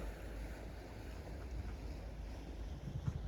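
Soft wind rushes steadily while a sailboat moves on the sea, a faint broad hiss with low rumbling buffets against the microphone and no voices.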